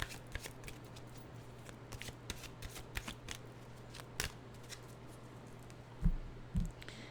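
A deck of cards is shuffled and handled on a quiet tabletop, a series of soft riffling flutters and light taps, close and faint, ending with two brief thumps.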